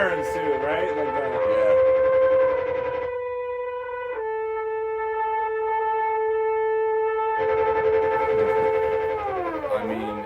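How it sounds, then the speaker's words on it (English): Siren sounds within a song, steady wavering electronic tones layered over music that drop to a thinner, sustained wail in the middle, then swell back with the full mix and a falling sweep at the end. "Oh, the sirens too, right?"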